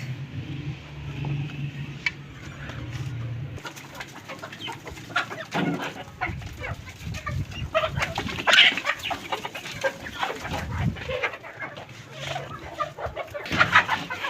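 Chickens cluck softly at close range while pecking at soft feed, with scattered pecking taps and occasional louder bursts of clucking.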